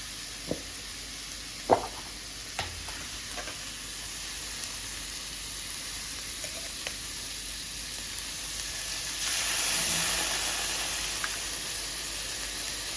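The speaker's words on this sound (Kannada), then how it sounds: "ಇವಾಗ ನಾನು ಶುಂಠಿ ಬೆಳ್ಳುಳ್ಳಿ ಪೇಸ್ಟ್ ಹಾಕೋತೀನಿ" Ginger garlic paste sizzles steadily in a hot pan for street-food cooking, with a few light clinks and a swelling hiss near the end.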